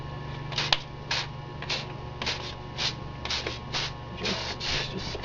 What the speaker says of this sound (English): let's start spraying the burnt umber, starting towards the back.